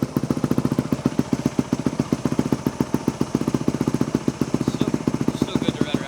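A 2008 Yamaha WR250F dirt bike with an FMF exhaust idles and blips with a fast, steady pulsing thump. The sound is close and continuous and no one speaks over it.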